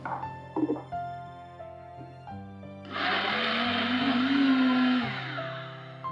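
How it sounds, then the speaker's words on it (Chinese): A blender whirring as it purees mango flesh with water into a smoothie, starting with a few clunks and short pulses, then a loud steady roar that falls away near the end. "将剩余的部分切进搅拌器里，大约200克的芒果肉，加入150克的清水，"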